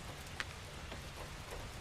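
Rain falls steadily in the Sakura School Simulator video game, a soft, even patter with a few faint droplet ticks, heard alone with no voices.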